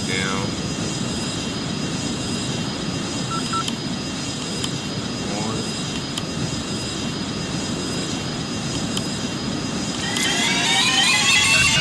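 Jet engines of an MD-80 airliner hum in a flight simulator game, a steady drone with occasional tonal cockpit sounds and a rising whine near the end, while a person talks over it.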